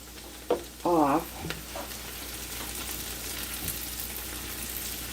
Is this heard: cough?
no